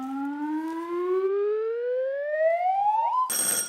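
A panel quiz show buzzer goes off as a loud, rising siren-like wail lasting about three seconds, then cuts to a short, harsh, noisy burst at the end.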